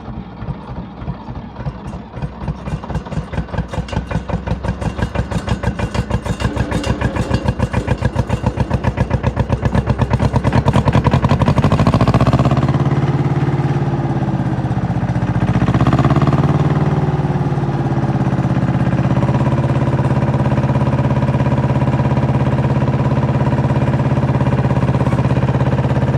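A Yanmar YM2200 tractor diesel cranks with rapid chugging, catches and settles into a steady, close, loud idle with a slight throttle swell.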